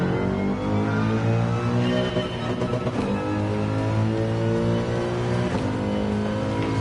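A Corvette's engine in Gran Turismo 7 revs through the gears on track, a loud harmonic drone that climbs and dips with shifts near 3 and 5.5 seconds.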